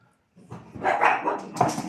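A dog barks several times in quick succession, fairly close and loud, after a brief moment of silence.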